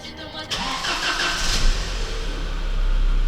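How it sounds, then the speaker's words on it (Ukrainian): A newly repaired starter motor on a Volkswagen Passat B5 whirs briefly and the engine catches, then settles into a close, steady running rumble that slowly grows louder. "звук стартера помінявся на багато кращу сторону"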